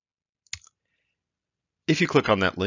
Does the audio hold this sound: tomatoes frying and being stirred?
no